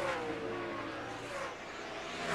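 NASCAR stock cars race at the 2004 MBNA America 400, a loud, close engine roar that rises and falls as cars pass, with a commentator's voice faintly underneath.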